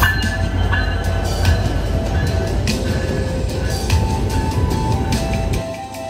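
A passenger train travels the line from Saidpur toward Natore at dawn: a loud, close, continuous rumble of wheels on rails with periodic clacks over the joints, easing off in the last half-second.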